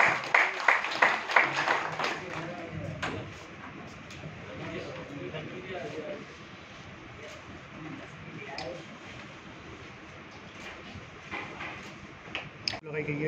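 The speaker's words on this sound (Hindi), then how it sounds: "जोरदार तालियों के साथ मुख्य अतिथि जी का।" Audience applause welcomes the chief guest at a university workshop opening in Mathura, a burst of clapping that starts loud, then fades to scattered claps under a speaker talking.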